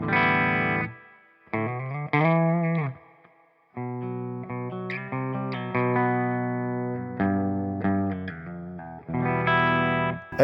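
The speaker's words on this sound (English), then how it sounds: "Let's activate the reverb for the clean." A clean electric guitar through a BluGuitar Amp1 Mercury clean channel with its reverb on plays chords and melodic phrases with a lush, ringing reverb tail, pausing briefly between passages.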